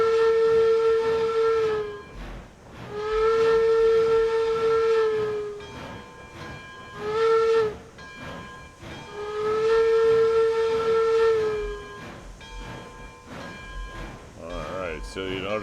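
Steam locomotive in the train game RailRoads Online chugging steadily while its whistle blows several long and short blasts, loud and close, with no voices.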